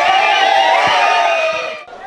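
A football crowd roars and cheers loudly after a goal, with high whoops and shouts over the mass of voices, fading slightly at the end.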